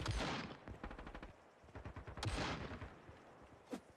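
Pump shotgun fire in the online shooter game Sabotaj, a few sharp blasts mixed with quick rattling bursts, then a lone distant shot near the end, fairly faint.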